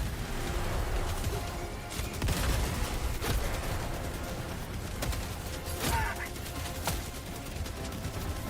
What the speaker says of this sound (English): I'm getting shot to hell by mortars.